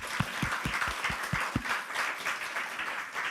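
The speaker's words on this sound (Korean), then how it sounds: "주님 앞에 박수로 영광 돌리겠습니다" Church congregation clapping in praise during a Sunday worship sermon: a run of distinct, rhythmic claps at first, then blending into softer, continuous applause, fairly faint.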